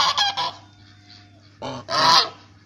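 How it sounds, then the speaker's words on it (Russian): Geese at a petting farm honk in loud, harsh bursts, a cluster at the start and two more after a brief lull, close by with faint background hum. "Гуси га-га-га говорят."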